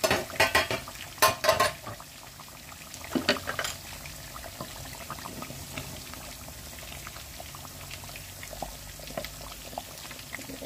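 Mezbani meat curry stirred in a pan, its risen oil bubbling: a few sharp scraping clatters in the opening seconds, then a steady soft simmer and sizzle underneath, with no voices.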